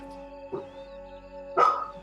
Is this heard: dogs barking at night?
yes